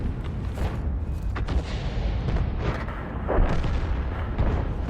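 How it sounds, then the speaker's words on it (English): A Conqueror Gun Carriage tank gun fires a round in the World of Tanks video game, a deep rumbling boom within a dense, continuous wash of battle noise, with no voices. "We fire a round out and lands behind him for 255, but tracks him"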